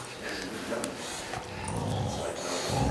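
A Rhodesian Ridgeback and a Labrador scuffle close by, with low growls and snorts under steady rough noise; someone talks over the tussle.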